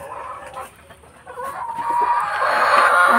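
Rhode Island Red hens on a backyard farm cluck close by, a steady layered stream of calls that swells louder toward the end, with no talking over them.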